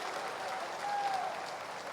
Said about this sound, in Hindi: जोरदार ताली बजा रामेश्वर जी के लिए भी।